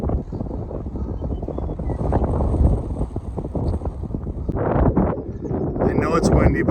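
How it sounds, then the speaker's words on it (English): Loud, constant wind buffets the microphone with a deep rumble throughout at Eagle Rock, gusting stronger toward the end, with faint voices mixed into the roar. "I know there's a lot of wind"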